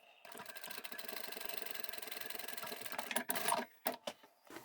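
Sewing machine stitching the short edges of a fabric wallet, a steady fast mechanical whir lasting about three seconds, then a few short bursts and clicks as it slows and stops.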